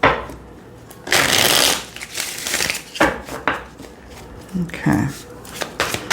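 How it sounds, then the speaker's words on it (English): Trace evidence telling cards being shuffled by hand, several bursts of riffling and slapping card sounds, close and crisp, with a person speaking briefly between them. "I'm going to shuffle them."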